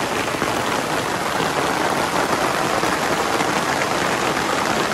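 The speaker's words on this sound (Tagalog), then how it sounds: "lumakas yung ulan mga kabayan" Heavy rain pours steadily, a dense, constant hiss of drops drumming on surfaces, loud and close with no pauses or voices.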